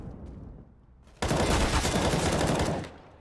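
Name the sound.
gunfire burst in Counter-Strike video game match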